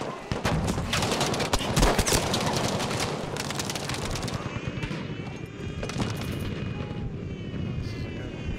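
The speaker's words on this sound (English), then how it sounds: "How does a machine gun not kill you and it's fully fucking automatic?" Sustained automatic machine-gun fire in Battlefield V, dense and loud with rapid bursts amid battlefield explosions and rumble, fading somewhat toward the end.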